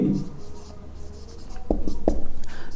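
Pen writing out a math problem by hand on paper, a few scratchy strokes and taps near the end, with a voice speaking at the start.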